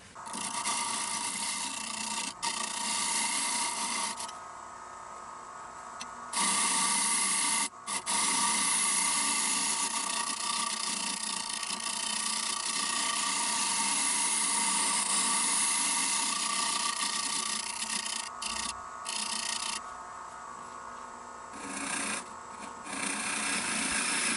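A wood lathe spinning a pecan wood bowl at 450 RPM hums steadily while a tool scrapes and rasps against the turning wood, with short pauses where the cut lifts off.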